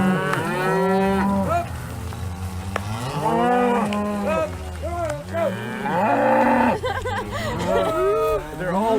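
Cattle in a small ranch cattle drive moo loudly and repeatedly, several overlapping long calls close by, with people chatting quietly underneath.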